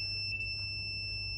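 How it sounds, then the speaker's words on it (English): A multimeter set to ohms gives a steady continuity buzzer tone while testing a heating system's cylinder thermostat, a continuous electronic beep heard alone with a low background hum. "we're in ohms with the buzzer"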